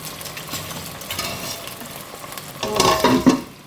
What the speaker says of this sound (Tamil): நல்லா கத்திரிக்காயெலாம் எண்ணெயில் வேகணும்